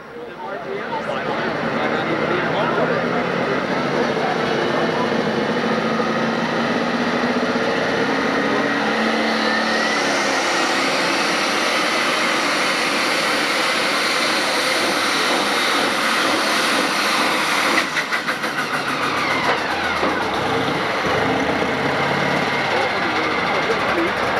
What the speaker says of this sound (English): you'll hear a lot of engine RPMs, and you should see a lot of wheel speed